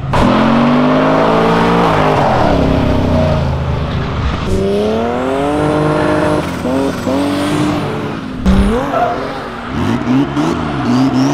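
A Honda Civic Si revs hard near by, engine pitch climbing and dropping repeatedly, with the whine and rumble of a drifting run.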